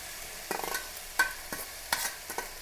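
Tomato and coriander leaves fry in a pan while a spoon stirs them, with soft sizzling beneath a handful of quick scraping clatters, close up and with no talking.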